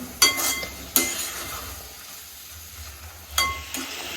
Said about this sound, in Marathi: मी याच्यामध्ये वेलची पूड टाकून घेत आहे आणि परत त्याला चांगलं मिक्स करून घ्यायचं आहे